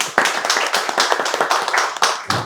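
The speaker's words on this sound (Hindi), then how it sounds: "तो एक बार मल्टीटेक इंस्टीट्यूट के लिए तालियां हो जाएं।" Students at an AC PCB repairing institute clap together in a lively, close burst, many hands striking in a dense rhythmic patter with a few sharper individual claps standing out.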